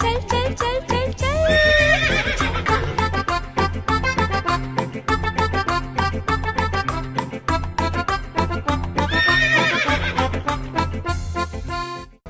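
A horse whinnies twice, loud and near, within a bouncy nursery-rhyme tune about a trotting horse, with steady clip-clop rhythm beneath the music.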